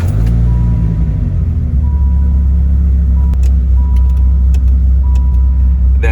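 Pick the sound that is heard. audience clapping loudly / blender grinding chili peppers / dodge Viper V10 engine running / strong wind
dodge Viper V10 engine running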